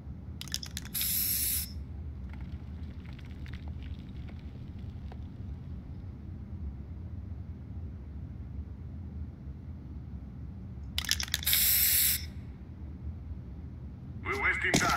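Spray paint tags applied in Counter-Strike: Global Offensive, two bright hissing bursts about ten seconds apart over a steady low game rumble, with faint talk underneath.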